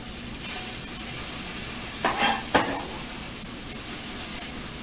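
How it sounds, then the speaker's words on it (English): Tofu frying in vegetable oil in a hot frying pan: a continuous broadband sizzle with two brief louder spurts of crackle midway, steady and close. "And go and put it on the hot frying pan."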